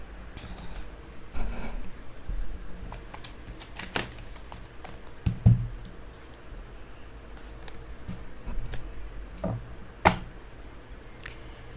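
Tarot cards handled and shuffled by hand, with soft riffling, sliding and light taps coming in short scattered bursts against a quiet background.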